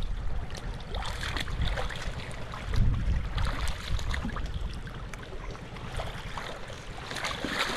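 A boat out on open water, with a steady wash of water and wind noise running throughout, a low rumbling swell near the middle, and no one talking.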